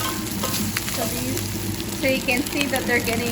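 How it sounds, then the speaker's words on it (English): Pork ribs browning in a pan for costillas de puerco en chile colorado, a steady close crackling sizzle of hot oil with faint stirring, under someone talking. "las costillitas todavía se están dorando"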